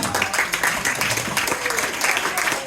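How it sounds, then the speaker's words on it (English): Audience applause during a stage hypnosis fundraiser show, a short burst of dense clapping from a crowd with a voice faintly talking underneath. "Give them a big round of applause, ladies and gentlemen."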